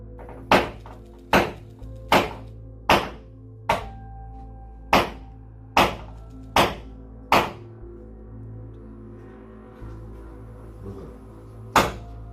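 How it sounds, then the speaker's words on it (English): A hammer and chisel strike a glass display case in a library in about ten sharp, separate impacts at irregular intervals, each a loud crack with a short ringing decay, and no voices. "using a hammer and chisel to try and break through the glass"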